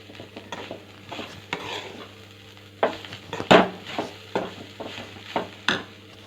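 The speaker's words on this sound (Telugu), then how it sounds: "కలుపుతూ ఉండాలండి ఈ కూరని, లేకపోతే అడుగంటుతుంది." Fresh grated coconut curry stirred in a pan: repeated scraping strokes and spoon knocks against the metal come in an uneven rhythm over a faint sizzle, close and clear, without speech.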